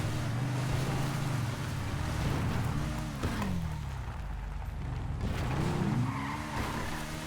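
A motorbike in a roleplay video game rides past, engine tone rising and falling as it sweeps by twice over a steady game ambience, no talk.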